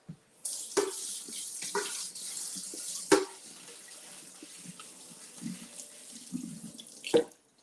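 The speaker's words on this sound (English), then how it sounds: "All right, so we're just gonna rinse these off." Chicken tenders rinsed under a running kitchen tap, a steady hiss of water into the sink with splashes and clunks as the pieces are handled, fairly close, with no voices.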